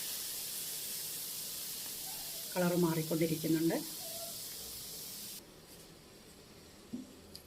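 Milk for payasam boiling in a pan gives a steady broad hiss that runs for several seconds, then cuts off abruptly; a voice speaks briefly over it partway through.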